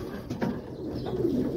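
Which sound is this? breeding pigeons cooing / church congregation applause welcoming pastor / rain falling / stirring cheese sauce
breeding pigeons cooing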